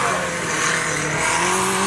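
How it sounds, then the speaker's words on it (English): A dune buggy engine that has just been started runs loudly close by, a rough, steady revving drone that rises slightly in pitch across the moment. "so we finally got the dune buggy started"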